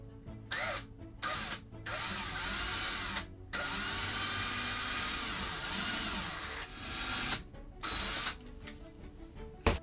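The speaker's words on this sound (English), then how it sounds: "Okay, I drilled my first hole in there" A power drill runs through an RV cabinet in long whirring bursts, stopping and starting several times at close range with a steady high whine and faint ratcheting.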